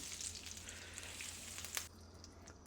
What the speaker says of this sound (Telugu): బటర్ అట్లా వేసేసినాక ఇగో దీన్ని ఇట్లా కరగొట్టాలి గట్టిగా